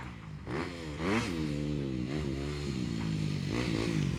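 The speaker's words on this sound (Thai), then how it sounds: "เสียงเหมือนอันเกียร์เลย" Manual-gear motorcycle ridden nearby, its engine revving up and down through gear changes with a buzzing, rising and falling tone and occasional rattling.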